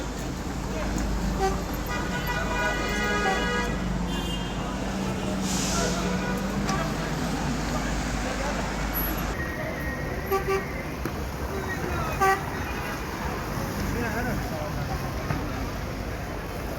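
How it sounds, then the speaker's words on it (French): Night street traffic in Amman with short car horn toots sounding repeatedly over a steady roadway rumble, some near and some farther off, while a person talks throughout. "Écoutez, ça klaxonne vraiment pour rien du tout."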